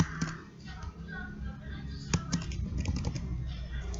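Keys tapped on a computer keyboard while writing PHP code in a CodeIgniter template, a few scattered light clicks under a steady low background hum, fairly close.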